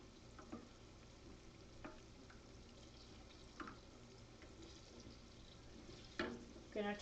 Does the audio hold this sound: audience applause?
no